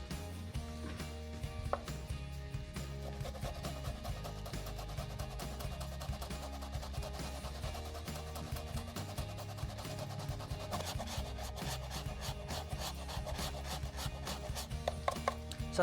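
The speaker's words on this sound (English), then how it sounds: "Let's grate in some ginger." Fresh ginger being grated, a soft repeated rasping scrape heard close up at a quiet level, running steadily through with faint background tones and no speech.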